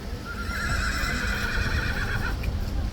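A King's Guard horse gives a loud, close whinny lasting a couple of seconds over a steady outdoor rumble, with faint hoof clops and shuffling nearby.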